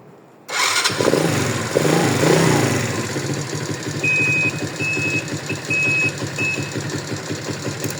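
A used motorcycle engine starts and then runs steadily at a loud, close idle, with a faint intermittent high beeping, and no talk.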